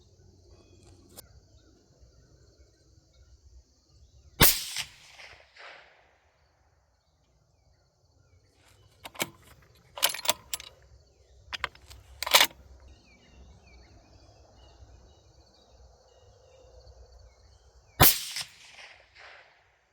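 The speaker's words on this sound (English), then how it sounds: "Gonna shoot the target on the left. 5-shot group, 100 yards." A 22-250 Ackley Improved rifle fires a five-shot group at 100 yards, each shot a sharp loud crack separated by long quiet gaps filled with faint insect chirping and small handling clicks.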